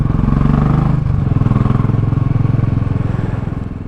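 A Royal Enfield motorcycle engine thumps close by in a steady, rapid, low pulsing rhythm, holding loud and even for a few seconds before easing slightly.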